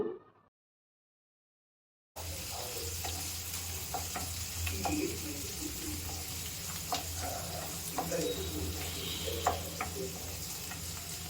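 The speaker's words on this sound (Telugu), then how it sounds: "టమాటా పేస్ట్ కూడా అనేది వేసుకుని దాన్ని కూడా ఫ్రై చేసుకున్నామండి" Onions and tomato paste fry in a pan for tomato rice made with leftover cooked rice, giving a steady close sizzle with occasional stirring clicks after a short silent start.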